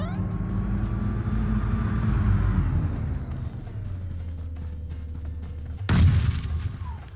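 A deep rumbling explosion from a bomb in the battle royale shooter PUBG, with a sharp blast near the end over a low engine-like drone, fairly loud and close.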